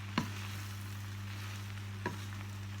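Vegetables stir-fried for shrimp pad thai in a pan give a low, steady sizzle, broken by two soft clinks of the utensil about two seconds apart, quiet and with no voices.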